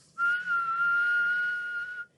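A single sustained whistled tone held steady at one pitch for about two seconds, clear and close, used as a pitch reference for piccolo tuning.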